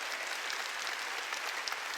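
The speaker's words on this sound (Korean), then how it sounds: "아브라함, 이삭, 야곱이 그대로 된 걸 믿는 사람만 박수 치라고요." Church congregation clapping during a Sunday worship service, a thick, uniform wash of many hands applauding together, steady and moderately loud with no voices standing out.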